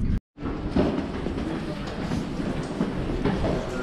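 A train from Slovakia to Austria rumbles along with continuous low mechanical roar and rattling, after a brief moment of silence at the start.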